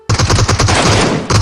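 Rapid automatic gunfire in the mobile battle royale game PUBG Mobile: a loud, fast burst of shots in quick rhythm, close up, with no talking.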